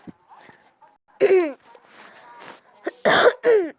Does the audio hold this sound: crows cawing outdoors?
no